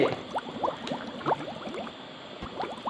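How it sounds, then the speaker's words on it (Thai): Steady bubbling of pork bone and winter melon soup boiling in a pot, with quick overlapping pops and gurgles at close range and no voices. "ปิดให้เดือดอีกทีนึง"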